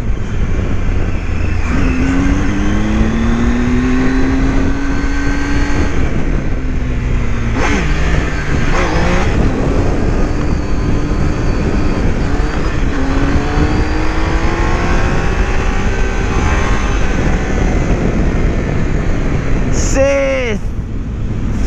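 A motorcycle accelerates hard at full throttle, its engine note rising through several gear changes in loud sweeping climbs, close and continuous, ending with a sharp high whine.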